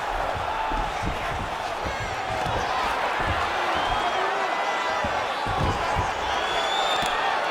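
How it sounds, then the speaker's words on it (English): Video game arena crowd in UFC 5 roaring and cheering steadily, a dense sustained wash of many voices with occasional thumps, loud throughout with no pause. "crowd absolutely loving it as the fighters, however compromised, make their way back to the field"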